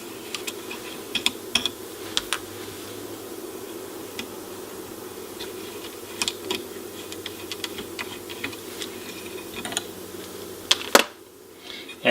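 Small screws being backed out of the cover of a late-1950s NuTone L model 8-note chime base, giving sparse light metallic ticks and clicks close up over a low steady hum, ending in a louder clatter.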